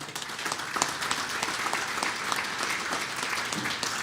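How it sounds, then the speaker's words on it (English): Audience at an awards banquet for a tractor pulling association applauds, dense sustained clapping from a large crowd filling the room at steady volume throughout. "How about a round of applause for Case IH?"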